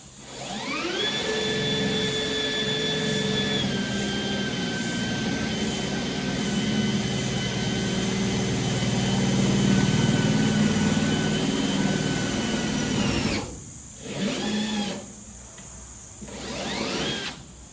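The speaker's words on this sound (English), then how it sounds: "So it will drill a hole, it will tap a thread." A steady loud whining drill-tap tool cutting an M6 threaded hole into a ute, running continuously for most of the time, then stopping and restarting in short bursts near the end, close with no talking.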